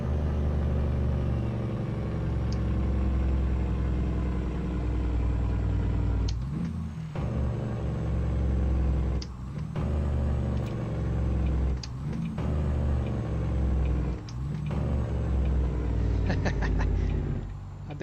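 A Peterbilt truck engine in American Truck Simulator drones steadily and loudly, dipping into brief drops at several gear shifts before rumbling back up, with no talk over it.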